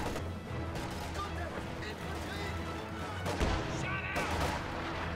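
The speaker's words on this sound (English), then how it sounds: "I heard a pack howitzer." Pack howitzer artillery fire in a World War II strategy video game, heavy booming blasts and crashes mixed into continuous battle noise, with a commentator talking over it.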